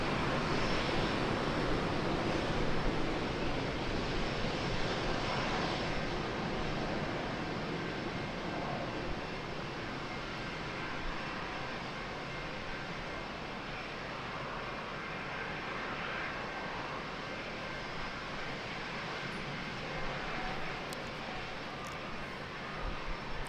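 An Alaska Airlines jet airliner in One World livery departing San Diego's Lindbergh Field, its engines giving a steady, loud broadband roar that fills the whole stretch without a break.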